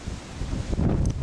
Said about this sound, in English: But the wind is gusting.